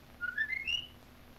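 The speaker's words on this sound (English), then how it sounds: "There's Jim's whistle" A short rising whistle, two quick notes sliding upward, sounds clearly against quiet background hum.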